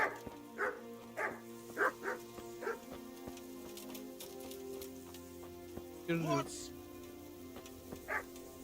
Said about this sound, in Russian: Пёс, блять.